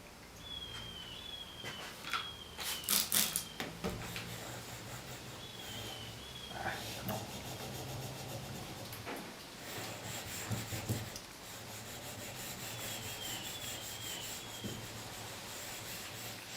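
A spokeshave blade is rubbed on an 8000 grit sharpening stone with slurry, giving soft, close scraping strokes in uneven bursts. A few sharper clicks and faint chirps sound over the low, steady background.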